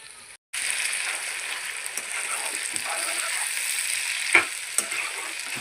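Duck meat for an Assamese-style duck curry fries in a pan with spices and a little Kashmiri red chilli, giving a loud, steady close sizzle broken by a couple of stirring knocks.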